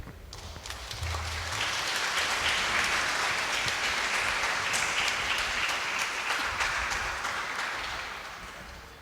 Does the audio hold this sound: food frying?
no